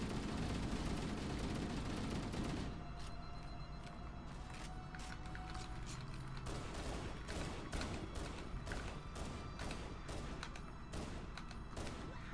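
Gunfire from Halo: Combat Evolved Anniversary aimed at a grunt, a dense stream of shots and impacts blended into a loud, continuous wash of game sound and music.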